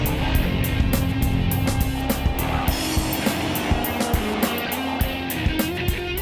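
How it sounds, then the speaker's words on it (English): A Mercedes-AMG G63 with its V8 and AMG sport exhaust roars under hard acceleration, a loud sustained engine drone broken by sharp regular crackles and pops. "when you put your foot hard down, that AMG Sport exhaust really earns its paycheck"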